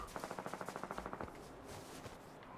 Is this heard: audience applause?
no